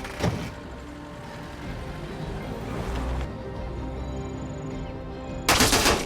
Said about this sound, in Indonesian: Tapi tiba-tiba Lina harus terkena tembakan